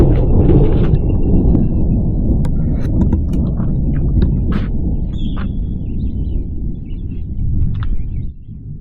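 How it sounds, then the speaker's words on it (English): Thunder rolls during a rainy night at a canoe campsite with a lean-to, a loud, sustained low rumble that slowly eases off, with faint chirps above it. "The thunder was just crashing just before I turned the camera on. It's super loud."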